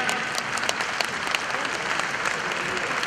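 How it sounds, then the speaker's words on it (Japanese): Steady applause from an audience fills the hall at the close of a national barbers' competition, a dense continuous patter of many hands clapping at even loudness throughout. "大きな拍手をお送りください。"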